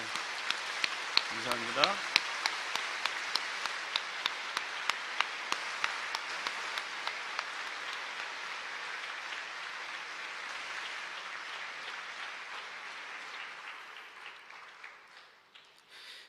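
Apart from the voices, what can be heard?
congregation applause welcoming a church guest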